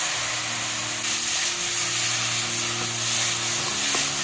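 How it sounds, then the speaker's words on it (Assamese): Hair-oil ingredients dry roast in a wok, giving off a steady, close hiss with a low background hum running throughout. "মই এখন কেৰাহী লৈছোঁ আৰু শুকানকৈ এইখিনি অলপ ভাজি ল'ম যাতে ইয়াৰ পানীখিনি আঁতৰি যায়"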